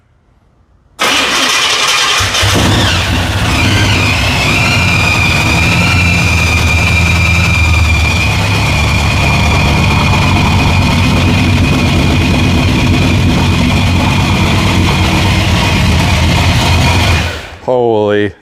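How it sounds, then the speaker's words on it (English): A loud, rough hot rod engine with a blower roars to life and then settles into a steady, throbbing idle that runs for a long stretch before cutting off abruptly. "You don't have to rev it. Just have it idling and it'll be good."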